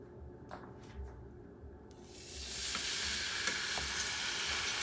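A thin steak drops into a hot oiled pan: a few quiet knocks, then a loud, steady sizzle that swells and holds close by.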